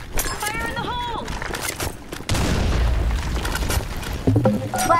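Grenade blast in the online shooter BlackShot during a competitive match: a sudden loud boom about halfway through, then a sustained heavy rumble, mixed with gunfire and game effects while players talk over it.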